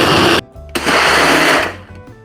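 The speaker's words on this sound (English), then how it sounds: "now let's give that a blend" A loud blender whirs at full power blending a kale and banana berry smoothie, cuts out briefly, then roars again before winding down.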